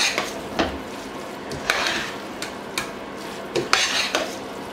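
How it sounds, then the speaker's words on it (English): A utensil stirs chicken vegetable rice in a pot with repeated scraping and clinking strokes against the metal, a faint sizzle beneath, and no voices. "Mix that thing nicely."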